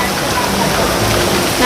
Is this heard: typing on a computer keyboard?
no